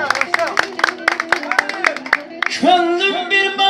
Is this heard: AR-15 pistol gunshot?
no